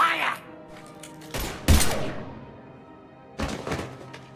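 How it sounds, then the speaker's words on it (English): Gunfire in the Mass Effect 3 video game, with a few sharp heavy shots and thuds spread across the moment, loud and close, and a fresh burst near the end. "Now open fire!"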